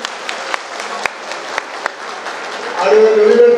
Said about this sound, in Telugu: మీకు ఫండ్స్ కావాలంటే గట్టిగా చప్పట్లు కొట్టాలి